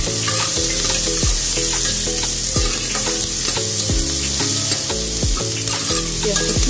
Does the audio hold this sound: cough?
no